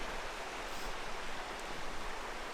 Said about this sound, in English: The river's right here next to us. You guys can probably hear that.